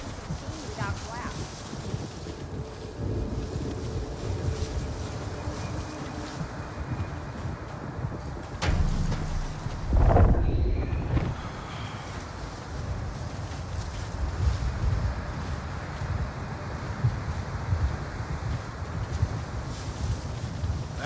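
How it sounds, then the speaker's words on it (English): Sandstorm wind in the video game Unknown 9: Awakening, a steady broad roar with a louder rushing swell partway through, continuous and close. "The sandstorm is getting worse."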